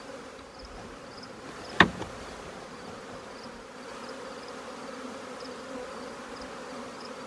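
Honey bees in an open hive during fall, backfilling the brood nest with syrup, give a steady low hum that fills the whole stretch, with one brief sharp knock partway through.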